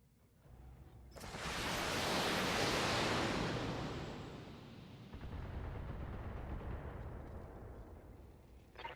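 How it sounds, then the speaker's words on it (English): A sustained roaring salvo of LRM-15 long-range missiles launched in the BattleTech video game, a loud rushing blast that swells, holds for a few seconds, then settles into a lower continuous rumble. "This is going to be my last salvo of LRM-15s."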